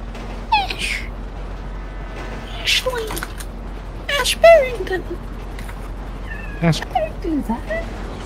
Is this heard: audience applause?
no